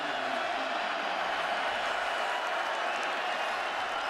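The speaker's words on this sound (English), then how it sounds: "here comes the crowd" A college football stadium crowd in Norman roaring steadily during an Oklahoma versus Iowa State game, a dense, continuous, loud wash of cheering with no breaks.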